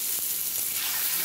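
Fish, likely mint-coated, frying in a pan: a steady, close hiss of sizzling oil runs through the whole short stretch, with a couple of faint ticks of movement and no talk.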